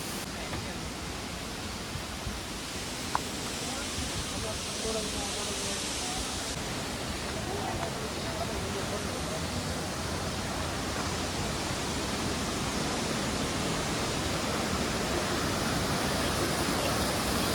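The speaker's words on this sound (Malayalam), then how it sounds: "മുകളിൽ നിന്ന് വെള്ളം ഒഴുകി വരുന്നുണ്ട്." Water flows down from above at the Marmala Aruvi waterfall in a continuous broadband rush, steady and fairly close, with no break across the stretch.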